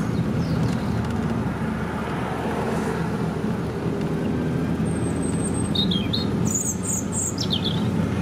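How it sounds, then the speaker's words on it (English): Brief bursts of birdsong chirp and tweet from roadside birds near Burton Springs in Somerset, heard from a moving open-top car over steady road and engine rumble; the calls arrive as short, thin phrases late on. "Interesting how you get little bursts of birdsong with an open top car as you go along."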